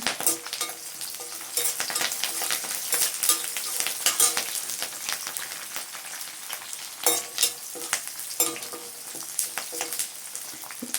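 Curry leaves fry in a pan for a Tamil elephant foot yam curry, with a steady close sizzle and repeated scraping stirs of a spoon against the pan, no talking.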